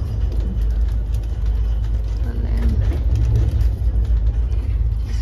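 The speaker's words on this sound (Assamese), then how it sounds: "এতিয়া ট্ৰেইনখন গৈ আছে" Steady low rumble and rattle of a moving train heard from inside a carriage, continuous and fairly loud, with faint voices in the background.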